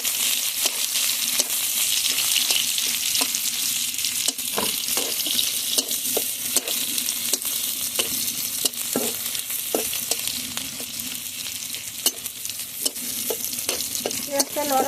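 Chopped onions frying in a pan for a Bengali chola shak bhaji, a steady close sizzle with regular scraping and stirring clicks from a spatula throughout, no voices.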